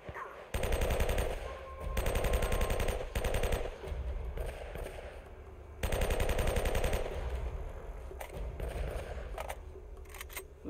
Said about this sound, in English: Who is she shooting at?